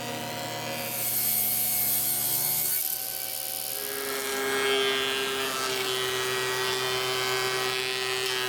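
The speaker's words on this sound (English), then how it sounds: "then I'll bring it over to the table saw and rip it down to strips that are closer to the final dimensions" Table saw ripping lumber down into strips for kitchen wall cabinets: a steady, loud motor whine with a harmonic hum that deepens and roughens as the blade bites into the wood, continuing without pause.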